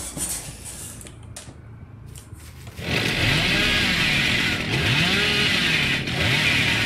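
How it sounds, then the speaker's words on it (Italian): A chainsaw revs in the horror video game Dead by Daylight, starting quietly and then roaring into a loud, steady buzzing drone with rising and falling pitch sweeps, sounding alone without talk. "Abbiamo una motosega non ideale."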